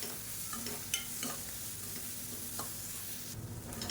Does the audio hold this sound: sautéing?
yes